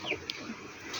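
Pigeons cooing among a flock kept by pigeon fanciers, soft low murmuring coos over a busy background with a brief higher chirp, steady and moderately near.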